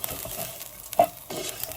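Low sizzling of Nigerian fried rice frying in a pan with stirring and scraping, plus a sharp clink near the middle; steady and close, with no talking.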